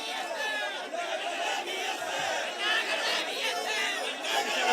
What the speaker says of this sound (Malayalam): വലിയ ജനക്കൂട്ടമാണ് ഇപ്പോഴും ഇവിടെ ഉള്ളത്.